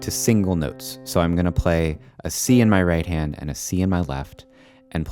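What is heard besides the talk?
No everyday noises stand out.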